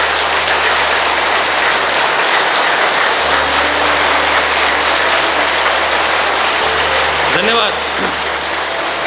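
Sustained loud audience applause fills a yoga camp gathering, a dense wash of clapping throughout, with a brief spoken word near the end.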